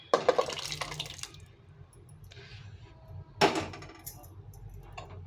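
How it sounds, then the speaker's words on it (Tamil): Cooked lentils (dal) are poured into a cooking pan with greens, giving two close wet splashy bursts of liquid slopping in, separated by a quieter stretch of soft sizzling and stirring. "இப்போ வேக வச்ச பருப்பை ஊற்றிடலாம்"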